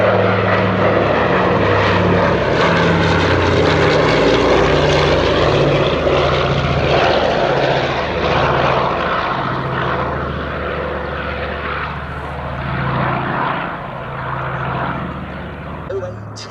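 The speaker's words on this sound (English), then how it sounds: "from plain sailing at Duxford, the Consolidated PBY-5A Catalina" A Consolidated PBY-5A Catalina flies at a Duxford air display, its twin piston engines giving a loud, steady propeller drone with a throbbing low hum that eases slightly as it passes. An announcer talks over the engines.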